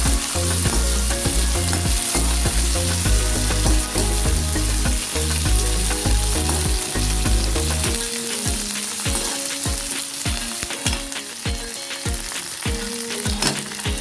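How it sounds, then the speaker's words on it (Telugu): Tempering spices with green chillies and curry leaves fry in hot oil over low heat for a snake gourd curd chutney, a loud continuous sizzle and crackle that settles into quieter, sparser popping bursts in the second half. "చూసారు ఎంత చక్కగా వేగుతుందో పోపు"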